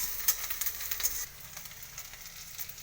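Onions fry in a pan for a bhorta, making a close, crackling sizzle that stays level with small spattering pops and a slight drop in intensity partway through.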